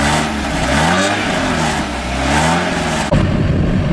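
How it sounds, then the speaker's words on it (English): A car's stock exhaust idles and revs with a deep, rumbling drone that swells and eases, ending with a sharp throttle blip. "This is a very stock exhaust."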